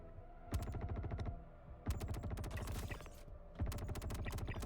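Bursts of automatic gunfire from computer-controlled enemies in the space game Star Citizen, with three long rapid volleys separated by short pauses. The shots are loud and close, with no voices over them.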